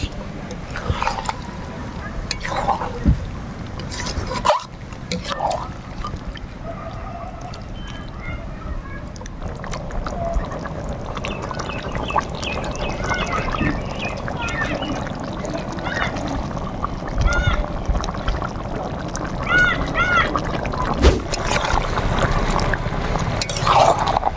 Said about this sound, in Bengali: এই সময় আমরা দিব জল অল্প জল দিব